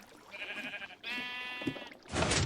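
Sheep bleating in a video game at an underground party room, several drawn-out harmonic bleats in succession, followed by a burst of broadband noise.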